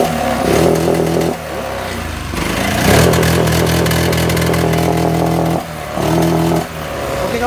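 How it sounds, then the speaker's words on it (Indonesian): A Honda Vario 150 scooter engine with a faulty throttle position sensor revved repeatedly, loud and close, the revs surging and stumbling with a rough, sputtering, uneven note and brief dips between throttle blips. "Oke, motornya hidup, tapi ya tuh ya, di gas dia berebet ya"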